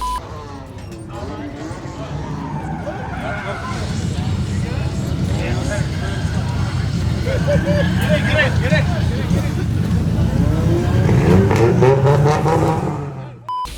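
A 1996 car's engine runs on a test drive, a low rumbling drone that swells as it accelerates, with people talking over it throughout.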